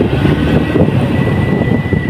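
Suzuki Gixxer Fi ABS motorcycle pulling in second gear, a loud, steady engine drone heard close and continuous with no voices.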